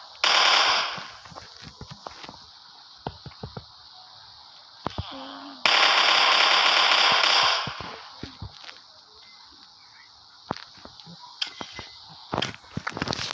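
Video-game gunfire while shooting ghosts, sharp cracks and two sustained loud bursts of rapid fire amid scattered clicks and impacts, with talk in the background.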